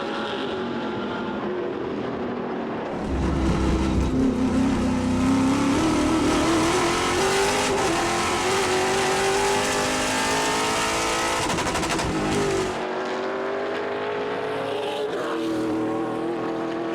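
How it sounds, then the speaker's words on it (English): Trans Am race cars at a Portland circuit roar past in a sustained loud engine drone, revs climbing and shifting as cars accelerate, continuous and close for most of the stretch. "Michael LaPaglia seems to have the faster car."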